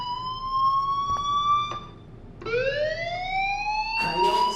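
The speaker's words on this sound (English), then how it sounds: "do you hear that fire alarm?" In the Life is Strange video game, a school fire alarm sounds as a loud, rising electronic siren tone. It holds steady, breaks off briefly, then sweeps up again, with no voices over it.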